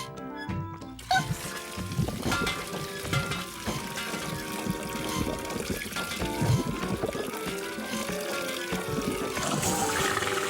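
Water gushes steadily from a tap left open in a Bob the Builder cartoon, amid a busy, layered background of music and other sound.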